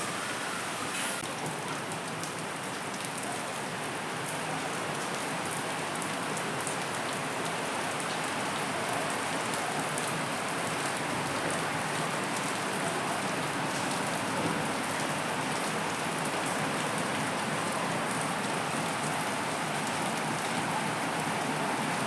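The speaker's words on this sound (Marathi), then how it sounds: "आता बघा दुपारनंतर पाऊस किती जोराचा पडायला लागलेला आहे" Heavy rain pours down steadily, a dense continuous wash of drops hitting surfaces, with no talking and no letup throughout.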